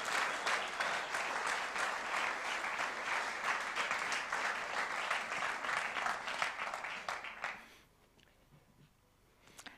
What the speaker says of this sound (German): jetzt geben wir ihnen doch einen herzlichen Applaus